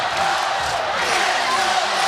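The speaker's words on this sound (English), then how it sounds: "And now the crowd trying to urge the home team on" Home crowd at a Hawaii Rainbow Wahine women's volleyball match cheering steadily to urge the team on, a dense, even roar of voices filling the arena without pause.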